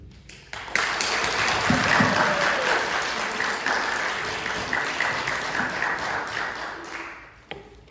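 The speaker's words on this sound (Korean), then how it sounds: "나오실 때 큰 박수로 격려해 주시면 좋겠습니다" Church congregation applauding as a pastor comes forward to preach, a full, steady wash of clapping that swells quickly, holds for several seconds and then tapers off, with no talk over it.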